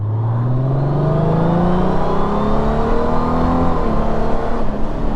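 A Honda Gold Wing touring motorcycle engine revs in sport mode, its steady, loud drone climbing smoothly in pitch as it accelerates, then briefly dipping and rising again, with no talking.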